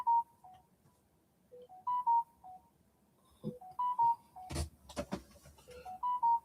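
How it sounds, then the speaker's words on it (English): A phone repeatedly goes off during an electronics mail-bag opening, giving short melodic electronic beeps in a repeating pattern, moderately loud, with clattering handling noises in between. "Phone just won't stop going off again."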